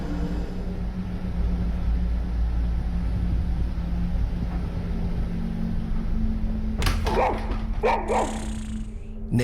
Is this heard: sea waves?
no